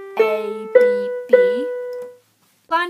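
A solo piano plays a melody line at a slow tutorial pace. Clear, ringing notes are struck one at a time and left to sustain, and a brief gap comes before a final note starts.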